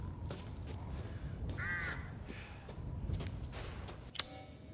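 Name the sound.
crows cawing in video game Resident Evil Village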